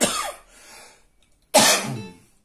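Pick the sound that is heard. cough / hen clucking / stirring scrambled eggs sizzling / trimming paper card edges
cough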